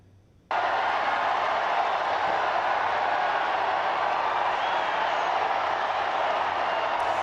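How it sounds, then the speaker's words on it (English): A large crowd roars in St. Peter's Square as white smoke rises from the Sistine Chapel chimney to signal a new pope, a broad, steady, distant wash of cheering that starts suddenly and holds without a break. "you can hear the roar of the crowd as white smoke poured from the chimney top of the Sistine Chapel"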